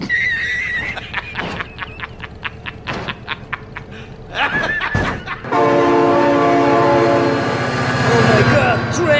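In the BeamNG.drive driving game, a train horn blares and a train rolls past loudly, a steady rumbling roar with layered horn tones. It follows a stretch of short, choppy bursts and a voice shouting.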